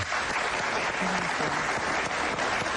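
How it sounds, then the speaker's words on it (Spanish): A studio audience claps for a guest arriving on a Venezuelan interview program. The applause is dense and steady and lasts the whole short moment, with no speech over it. "Un aplauso para Ana Mercedes, por favor"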